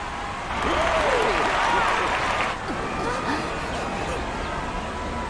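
A crowd cheers and applauds in a golden city scene of the video game Final Fantasy 14, a dense, fairly loud swell that fades after a few seconds into a softer background murmur.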